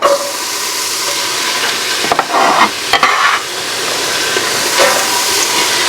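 Chopped onion hitting hot oil in a soup pot, a loud steady frying sizzle and hiss with a couple of sharp stirring scrapes partway through, heard up close with no speech.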